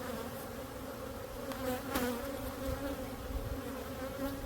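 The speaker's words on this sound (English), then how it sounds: "that's why they started flying around a little bit louder, because I killed her" Honeybees in an opened hive, disturbed after alarm pheromone is released from a crushed bee, buzz loudly and continuously in a dense, close drone during a pre-winter hive check.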